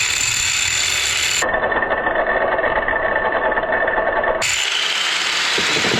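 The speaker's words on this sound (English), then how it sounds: "We're gonna shove this in our Mr. Wilton vise here, clamp it down, and we'll get to cutting." A metal piece clamped in a Wilton vise is cut with a loud, continuous rasping, grinding tool noise that runs throughout, its tone shifting partway through, close and steady with no voices.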